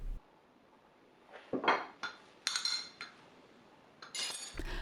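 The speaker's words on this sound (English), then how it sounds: "Give this a good whisk." Lemon vinaigrette of olive oil, lemon juice, mustard, garlic and maple syrup is whisked in a measuring cup, giving quick bursts of clinking and tapping metal against glass with short quiet gaps, close and fairly soft.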